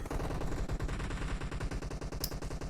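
Rapid automatic gunfire from an AKM rifle in the mobile shooter PUBG Mobile during a team deathmatch, a steady rattling burst of close, loud shots running the whole stretch without pause.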